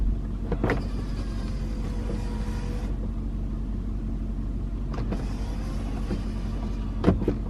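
Electric rear sunshade on a BMW E39 M5 car motoring up and down inside the cabin, a steady whirring hum running for a couple of seconds, pausing, then running again, ending with a soft click as it stops.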